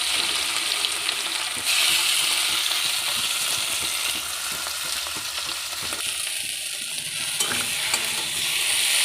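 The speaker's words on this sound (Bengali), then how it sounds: "কড়ার মধ্যে সাদা তেল দিয়ে নিয়েছি, আর একটু কালো জিরে নিয়েছি" A filling with nigella seeds fries in white oil in a wok, a steady close sizzle broken by repeated scraping stirs, with no talking.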